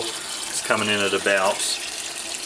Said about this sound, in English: I'm just going to fill this sink here with water